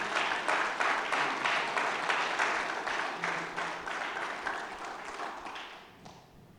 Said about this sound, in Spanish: Démosle un fuerte aplauso al Espíritu Santo de Dios.